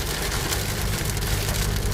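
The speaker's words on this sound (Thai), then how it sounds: "อยู่ดีๆ ฟ้าก็รั่วมาจากไหนไม่รู้ครับผม" Heavy rain drums steadily on a car driving through a sudden rainy-season storm near Chiang Yuen in Thailand, a dense close hiss over a low engine hum, with no voices.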